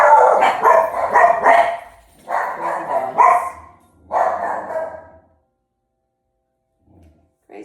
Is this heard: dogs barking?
yes